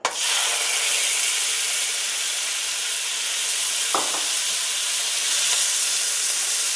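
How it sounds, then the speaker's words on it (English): A loud, steady sizzle of Greek salad frying in a hot pan without oil, broad and hissing throughout, with a brief clink partway through. "when I dump this cup of Greek salad into the frying pan, it's going to hit and sear and sizzle"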